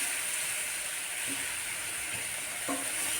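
Spice powder roasting in a hot pan on the stove, a steady close sizzling hiss with a few faint stirring knocks and no talking.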